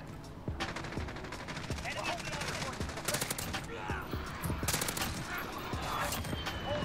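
Rapid gunfire and bomb blasts from a VTOL aircraft strike in a Call of Duty match with the Grau 5.56 rifle, a dense continuous barrage of bursts and booms with faint voices mixed in.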